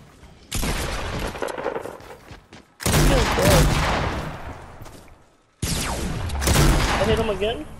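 Bursts of Fortnite Battle Royale gunfire on console, three loud dense volleys of rapid shots separated by short pauses, sharp and close, with a voice briefly heard among them.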